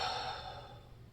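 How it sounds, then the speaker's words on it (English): A single long, deep exhale during a beginner golf core and flexibility workout, soft and close, tapering off gradually with no talking over it. "A couple of deep breaths."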